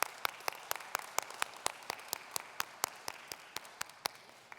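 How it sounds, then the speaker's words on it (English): At a university social work graduation ceremony, applause for the graduates comes through as a sparse run of distinct, evenly spaced claps over a quiet background, fairly faint and with no talking. "Just join me in giving them a round of applause, please."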